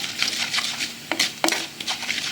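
Mustard, cumin and fenugreek seeds splutter in hot oil for rasam, with close, crackly pops and a couple of sharp metallic clinks from a pan or spoon.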